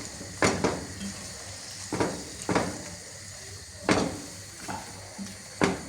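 Uzbek chicken rice being mixed in a pot, with a handful of spaced scraping, clanking strokes of a utensil against the metal over a soft sizzle.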